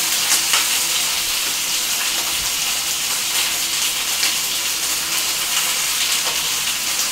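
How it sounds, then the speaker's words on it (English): A steady, loud sizzle of chicken thighs frying skin side down in hot chicken fat fills the whole stretch, with occasional crackles and pops. "All that sizzle, that'd be the chicken fat and the chicken breast, or chicken thigh"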